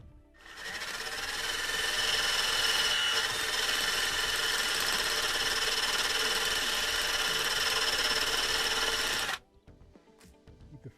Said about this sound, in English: And we're just going to use a wire brush.